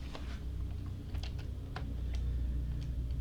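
Sharp computer mouse clicks and light keyboard taps at a desk, several quick dry clicks scattered unevenly, close and quiet, with no talking.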